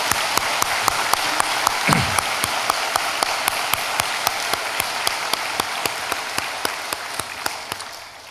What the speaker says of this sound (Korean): 우리 잘하고 오라고 진짜 손뼉을 한번 쳐주겠습니다.